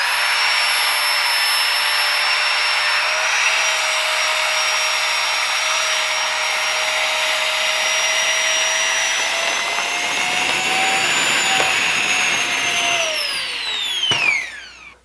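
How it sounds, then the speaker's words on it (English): A GIGA Pump 3.0 portable air pump inflating a small camping air mattress gives a loud, steady whine with a high motor tone that climbs as the mattress fills, then winds down at the end. "now I've got this little inflatable air mattress for camping, and we're going to see how fast it'll blow it up"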